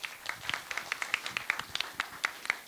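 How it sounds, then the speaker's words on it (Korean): Scattered clapping from a panel discussion audience, a couple of dozen distinct, fairly close hand claps in an uneven rhythm, thin rather than a full roar. "예, 박수 부탁드릴게요."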